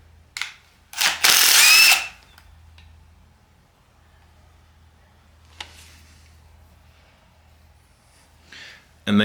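A ratchet works on 10mm bolts during crankshaft removal from an engine, a loud burst of clicking near the start followed by quieter scattered metallic taps and a final short ratcheting burst.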